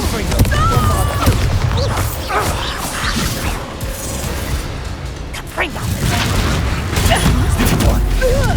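Bombarda and Confringo explosion spells in Hogwarts Legacy, a run of loud crashing blasts, whooshes and impacts in close succession amid busy combat noise, with a voice calling out over them.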